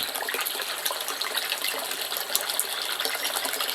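A fish pond water pump sprays water strongly, a continuous hissing, splashing gush of falling water that stays steady and moderately close, with no voices.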